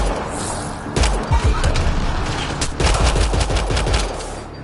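Enemy gunfire in the video game Mass Effect Andromeda: loud, dense rapid shots and bursts that crackle almost continuously, with sharp individual reports standing out.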